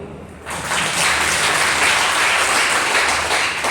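A crowd breaks into loud applause after a brief quieter moment, sustained clapping filling the rest of the clip.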